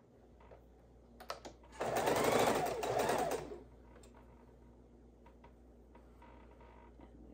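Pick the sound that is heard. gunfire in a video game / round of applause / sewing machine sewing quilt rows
sewing machine sewing quilt rows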